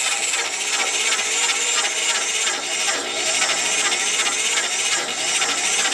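A Q88E line boring machine bores a hole with a cobalt cutter, giving a steady, loud, close grinding and hissing cut that continues without a break for the full six seconds.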